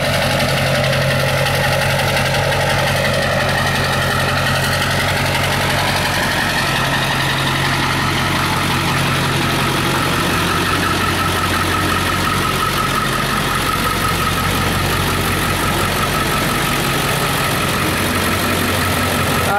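A 7.3 diesel truck engine idles loudly and steadily up close, a constant rumbling clatter with a deep drone that holds throughout without pause.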